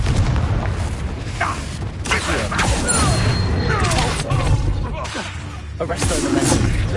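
Confringo fire spell blasts in the Hogwarts Legacy video game, a series of loud booming bursts and crackling impacts layered over dense game music and effects throughout.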